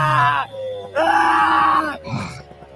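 A man cries out in pain after crashing a homemade flying machine, with long loud groaning wails close to the microphone followed by a shorter strained moan.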